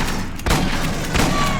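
A pump-action shotgun fires in an Aliens video game: one heavy, close blast followed by a dense, booming tail, with no talk over it.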